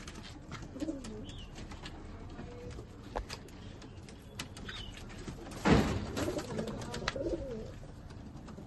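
Pigeons kept in a loft at Chinsurah, Hooghly, give soft, intermittent coos over quiet background rustle, with a brief louder knock or flutter midway.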